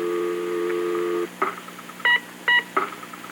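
A steady dial tone is followed by a string of short telephone dialing tones, each made by blowing into a specially adapted phone. The beeps come in separate, clear bursts at close range.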